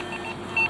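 A metal detector emits a steady electronic buzz with short, sharp beep tones layered on top, heard up close, with no talking.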